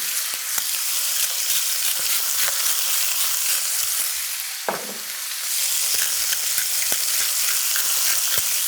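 Chicken pieces frying skin-side in a pan, a loud, close, continuous sizzle with crackling pops, briefly dipping once midway before resuming steadily.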